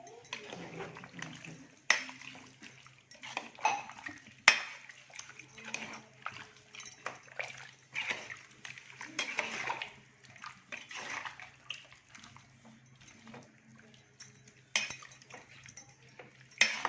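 A spoon scrapes and clinks against a pot while spicy chicken rassa curry with added hot water is stirred, in soft irregular strokes with faint watery sloshing and a low background hum.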